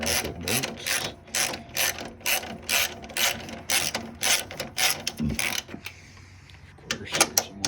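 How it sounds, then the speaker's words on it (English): Ratchet wrench loosening the radiator bracket bolts on a 2015-or-later Subaru WRX during a cold air intake install, a rapid run of close, loud clicking bursts with brief pauses between them. "Then we're going to remove the two radiator bracket bolts."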